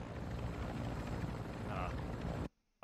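Helicopter in the video game Warzone 2.0, a steady whirring rotor drone heard close and continuous before cutting off abruptly near the end, with a voice talking over it.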